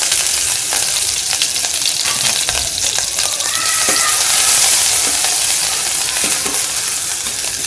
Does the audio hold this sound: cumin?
yes